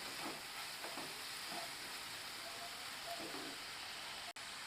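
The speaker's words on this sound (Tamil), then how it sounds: "இந்த வெங்காயமும் பூண்டும் கொஞ்சம் நல்லாவே வதங்கணும்" Onion and garlic sauté in oil for prawn pepper masala. A soft, steady sizzle and hiss carries a few faint stirring scrapes and a brief dip near the end. No voice is heard.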